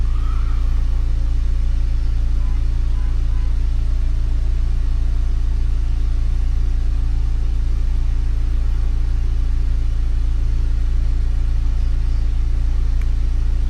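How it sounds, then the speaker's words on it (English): Steady mechanical hum of the cooling fans on a Bluetti Charger 1 running continuously, with a constant low rumble and no speech, holding at an even level throughout. "I could just hear the fans going on the Charger 1"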